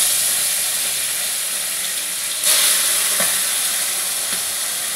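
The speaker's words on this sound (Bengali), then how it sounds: "এবার আমার তেলটা গরম হয়ে গেছে, মাছটা এতে আমি দিয়ে দেবো। এবার মাছটা এতে আমি ভেজে নিই।" Katla fish sizzles steadily in hot oil in a pan, a loud continuous crackle with a few brief louder spurts and stirring clicks, no voices.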